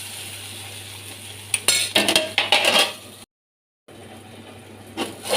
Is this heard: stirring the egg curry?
yes